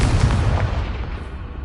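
A Confringo fire spell detonates in Hogwarts Legacy on PS5, a single loud heavy boom that erupts at once and rumbles out with a dense, low roar for under two seconds.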